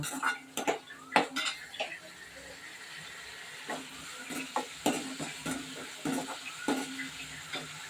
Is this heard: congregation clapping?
no